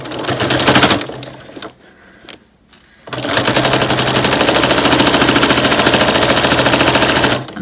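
A sewing machine with a walking foot stitches a zipper in, running loud and steady with a fast mechanical rattle, briefly at first, stopping, then resuming for a long continuous run.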